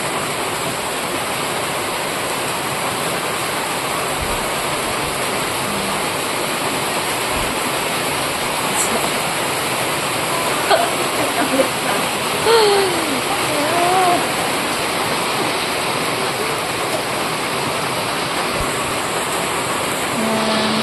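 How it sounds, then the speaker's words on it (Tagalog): Heavy rain pours down steadily during an outdoor birthday gathering, a constant loud hiss of water that runs the whole time, with faint brief sounds in the middle. "Guys, umulan pa. Ang lakas ng ulan."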